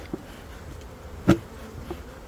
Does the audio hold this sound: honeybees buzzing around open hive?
yes